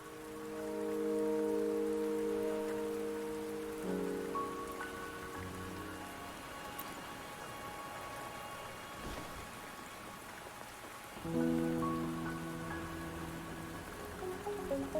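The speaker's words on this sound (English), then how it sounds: "the rain won't last much longer" Steady rain patters in the video game Wuthering Waves, a continuous wash under sustained tonal game music and chimes, with no voices.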